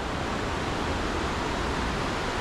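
A waterfall in a mountain creek in northern British Columbia, a loud, close, steady rushing roar of falling water with no breaks, heard alone.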